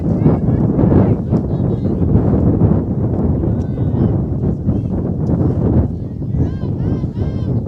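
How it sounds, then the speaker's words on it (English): Strong wind gusts roar across a field during a girls' high school soccer game, a dense, steady buffeting rush with voices talking underneath. "We told you there was some wind, didn't we?"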